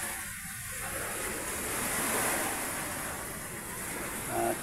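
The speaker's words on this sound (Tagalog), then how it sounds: "At maalon pa ang dagat." Rough sea surf rolls and washes in a continuous broadband roar, steady and moderately distant, with wind noise mixed in and no voices.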